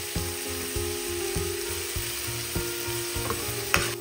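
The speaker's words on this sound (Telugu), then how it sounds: "మీరు ఆనియన్ గ్రీన్ చిల్లీ ఈ గార్లిక్ ఇవన్నీ యాడ్ చేసి ఫ్రై చేయండి" Onion, green chili and garlic frying in oil, a steady close hiss with rhythmic scraping strokes of a spatula repeating about every half second, no voices.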